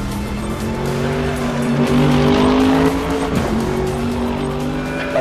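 Mercedes-AMG GT3 race car in the RaceRoom racing game, its engine droning loudly and steadily with harmonic pitch shifts through gear changes, plus brief tire squeal mid-run, with no talking.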